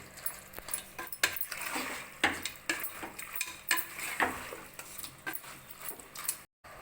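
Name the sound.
rabbit meat sautéing in oil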